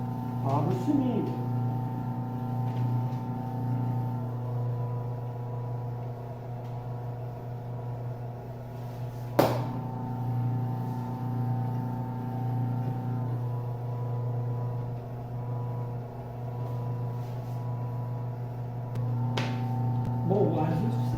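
A dough sheeter roller machine runs steadily for pastel dough, giving a constant mechanical hum with one sharp knock partway through, while people talk over it.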